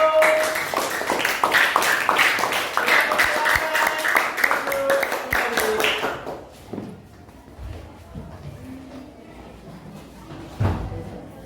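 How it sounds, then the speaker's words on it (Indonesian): Schoolchildren in a classroom give group 1 a round of applause, dense clapping for about six seconds before it trails off into quieter room noise and a few knocks. "Tepuk tangan untuk kelompok 1."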